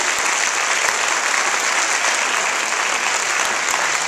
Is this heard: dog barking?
no